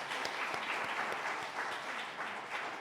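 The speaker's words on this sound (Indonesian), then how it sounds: "Tepuk tangan, silakan." Steady applause from a church congregation at an Indonesian Sunday worship service fills the space, dense and even throughout without pauses.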